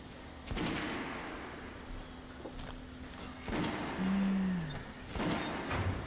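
Gunshots on a shooting range in Metro Last Light, a few separate loud reports spaced by a second or more over a low hum, with a short low tone in between.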